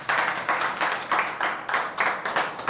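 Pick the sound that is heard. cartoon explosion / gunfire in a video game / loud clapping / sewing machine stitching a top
loud clapping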